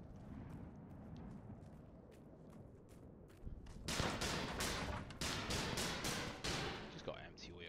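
Gunfire in the video game Eternal Castle Remastered, a rapid string of sharp loud shots bursting in after quieter footsteps and shuffling.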